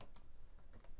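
Soft keystrokes on a computer keyboard, a few faint clicks spread over a second, tapped in a quiet room with no talking.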